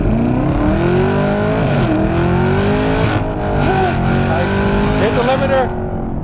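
A Chevrolet Camaro ZL1 1LE with a 10-speed transmission accelerates hard from a green light, its engine climbing loudly to the rev limiter and holding a strained, buzzing roar, with pitch dips at the shifts.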